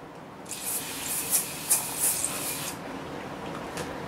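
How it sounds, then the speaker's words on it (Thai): Makeup setting spray is misted from a pump bottle in several short hissing bursts, close and fairly quiet, with no talk over them. "พิมพ์ใช้เซตติ้งสเปรย์นะคะ"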